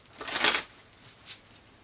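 A short, close riffle of oracle cards being shuffled, followed by a single quieter flick.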